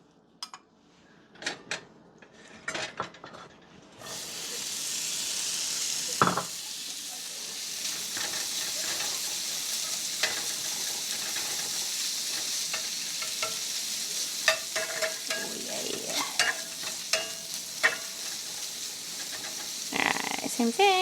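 Bacon sizzles loudly and steadily in a pan for a long stretch after a few sharp utensil clinks at the start, with occasional scraping and stirring knocks rising over the constant fry.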